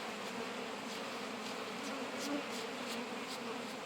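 Steady, busy buzzing from many honeybees at a hive, a continuous drone with faint rising hums now and then, moderately quiet and without speech.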